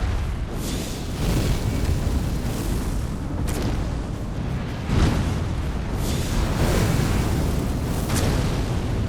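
Fire spells are cast against a golem in the video game Elden Ring, giving loud, continuous roaring blasts and booming rumbles that swell and crash in repeated surges, with no speech.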